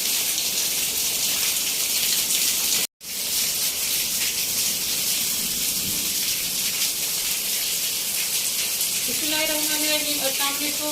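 Heavy rain in a village, a dense, steady hiss of downpour running throughout, broken by a brief cut near the start, with faint tonal sounds near the end.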